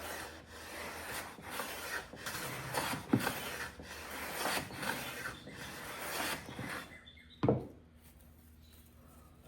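A No. 5 1/2 hand plane shaving a piece of walnut, several rhythmic rasping strokes close up, then a sharp knock and quiet near the end.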